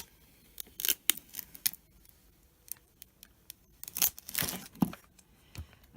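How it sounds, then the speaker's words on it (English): Transfer tape peels away from self-adhesive vinyl in sharp, irregular ripping and crackling bursts, close and fairly loud, with quiet gaps between them. "I'm going to peel away the transfer tape to reveal"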